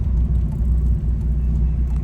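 A small Mazda Miata drives along the road, giving a steady, close, low rumble of engine and road noise that holds even and unbroken throughout.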